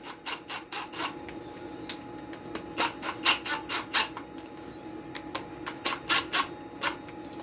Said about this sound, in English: we're going to back out these screws a little bit.